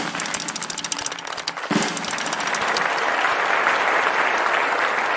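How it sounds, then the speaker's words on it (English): Applause for a best poster award at the HPG 2022 graphics conference. Some scattered claps and noise give way to a broad, sustained wash of clapping from a large audience. "Huge round of applause."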